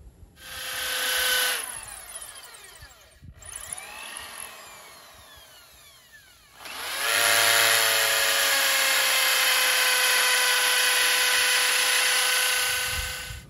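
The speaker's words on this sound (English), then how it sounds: "First, we drilled a little hole, and now we go with a 12 millimeter hole." A power drill bores a 12 millimetre hole into a gate column for dyna bolts, two loud sustained bursts of whirring drilling separated by a short pause, the second run long and steady, with no talking.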